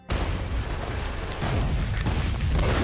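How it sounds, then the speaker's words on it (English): A large detonator-triggered explosion erupts after a brief beat of quiet, a loud, dense boom that sustains as a thick roaring rumble and swells again toward the end, with no voices over it. "Within a second, a large explosion detonates."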